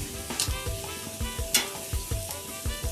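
Onions frying and sizzling in a pan during a home cooking session making salsa, with repeated stirring scrapes and clatters over a steady close sizzle, no talking.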